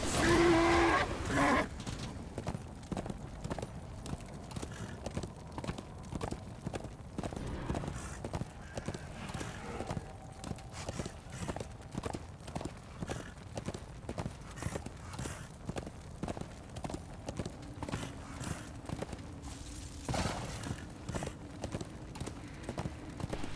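Hooves of a horse ridden in the video game Darksiders II clop in a fast, steady galloping rhythm throughout, with an occasional whinny and game effects over the running beat.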